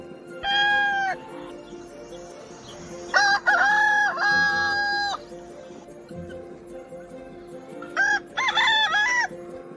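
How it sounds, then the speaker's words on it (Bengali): A rooster crows loudly several times, long strained calls separated by brief pauses, with low background noise between them. "এটা মোরগের ডাক ইংরেজিতে একে ক্রো বলে"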